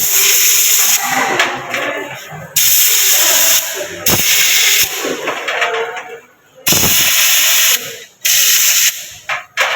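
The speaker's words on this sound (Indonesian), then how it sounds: "Setelah itu kita semprot tutup aki supaya bersih." Spray cleaning a car battery cover in a school auto workshop: loud, close bursts of hissing spray, several of them starting and stopping abruptly with brief quieter gaps between.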